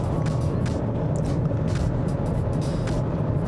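Inside a 2023 Mazda CX-5 Touring cruising on smooth highway tarmac, a steady low road rumble and hum fills the cabin with faint wind hiss, constant and even, with no one speaking.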